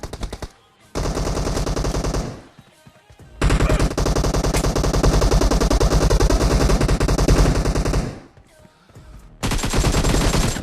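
Loud automatic gunfire from the battle game PUBG: long, dense machine-gun bursts broken by short pauses, then another burst starting near the end.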